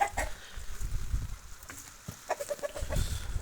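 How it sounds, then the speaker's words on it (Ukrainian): Chickens and roosters clucking in a farmyard that also keeps turkeys, a steady cluster of short calls with occasional louder bursts, nearby and moderately loud. "наші курочки, пітушки"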